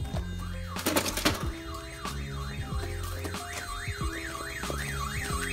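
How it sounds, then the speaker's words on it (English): A car alarm on a Honda S2K blares nearby, cycling through its patterns of steady tones and fast warbling sirens without a break, and nothing else is heard over it. "The keys aren't shutting the alarm off."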